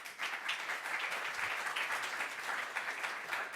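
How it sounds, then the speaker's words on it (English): Sustained audience applause at the close of a conference session on connected and automated mobility, a dense, even wash of many hands clapping at steady volume throughout, with no talk over it. "Big applause to everybody."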